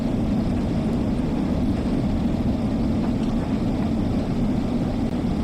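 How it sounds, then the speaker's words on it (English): A steam locomotive runs along the Liverpool to Crewe line in Train Sim World 2, giving a loud, steady, continuous rumble and roar with no distinct beats and no voices. "Yeah, sit back and let the train do its thing now."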